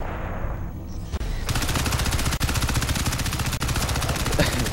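Rapid automatic gunfire from the shooter Crysis 3 bursts loud and continuous, a dense unbroken rattle with a few brief gaps, heard alone without talk.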